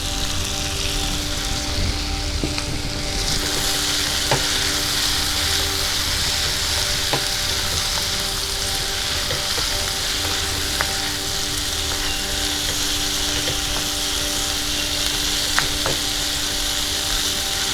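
Red and yellow bell peppers and green capsicum fry in a pan for a chicken dish, a loud, even sizzle that runs throughout, punctuated by a few faint stirring clicks, with no voices.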